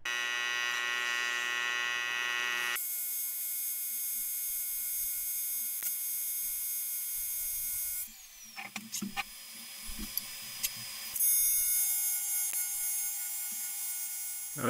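A long continuous weld on a steel drawer frame for an overlanding storage system: a steady buzzing, hissing arc runs almost unbroken, dips briefly partway through, then resumes strongly. No talking.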